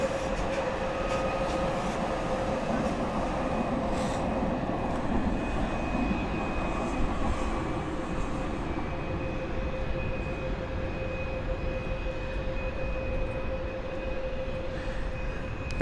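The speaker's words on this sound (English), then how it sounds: "Aircraft inbound as well from Firenze, I believe that is." Aircraft at London City Airport, a steady broad roar held for the whole stretch without a clear rise or fade, heard from a distance with no talk.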